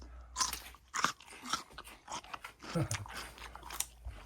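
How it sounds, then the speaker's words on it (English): A crunchy raw vegetable, compared to jicama, is bitten and chewed close by, with a quick series of crisp crunches spread across a few seconds at low volume. "you may hear some crunching sounds because the cameraman's going to have"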